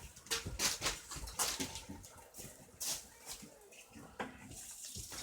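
Cold tap water runs indoors to fill a flimsy dog water bowl, coming in uneven splashing bursts of moderate loudness that rise and fall as the flow hits the bowl.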